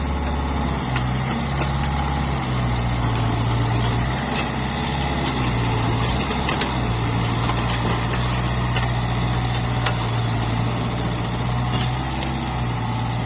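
A Komatsu PC 30 mini excavator's diesel engine running steadily, a loud, continuous low throbbing drone with a constant rumble throughout and no talk.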